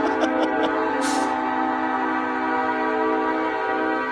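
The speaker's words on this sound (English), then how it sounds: "A lot of honks, right?" Long sustained horn blasts from trucks at the Ottawa convoy protest, heard from a high-rise, steady and fairly loud with a few short toots near the start.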